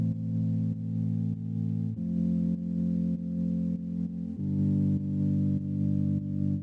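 Clean keyboard tone from the Omnisphere Pure Tape Tone patch plays sustained, steady chords that shift to new harmonies twice, alone and fairly full.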